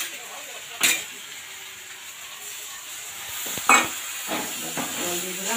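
Water poured into a frying spice paste in a pan, setting off a steady hiss and sizzle with a few sharp spatula knocks and scraping stirs close by.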